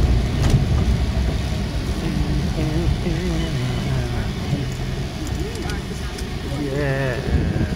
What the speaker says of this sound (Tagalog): we're here now at the parking lot